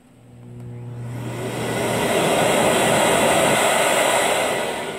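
A Samsung MotionSync canister vacuum cleaner spins up from a click into a loud, steady whooshing roar and holds it, close to the listener.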